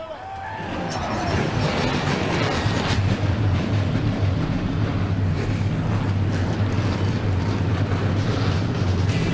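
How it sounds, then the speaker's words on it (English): Stock car engines roar into life at Daytona for the 2003 Florida Dodge Dealers 250, a loud, dense, continuous drone of many motors mixed with wind buffeting the microphone. "The motors are fired up, and we're fired up right here on Speed."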